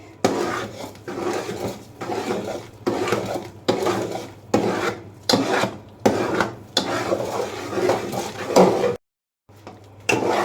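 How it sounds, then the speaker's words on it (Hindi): A spoon scrapes and stirs thick besan halwa in a pan with quick, repeated strokes, each a loud rasping rub, alone and close, with brief pauses near the end. "तो जल्दी जल्दी चम्मच चलाने हैं हमने"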